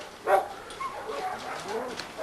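A breeding-yard dog, a Jeep and Rascal cross, gives a short bark or yip near the start of the clip at feeding time, then quieter whimpers and small sounds follow against outdoor background noise.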